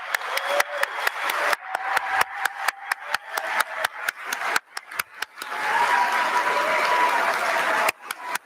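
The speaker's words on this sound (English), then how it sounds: "let's give our graduates a big round of applause" Applause from the audience at a law school graduation ceremony: steady clapping in irregular bursts and swells, fairly close, with short pauses between rounds and no talking.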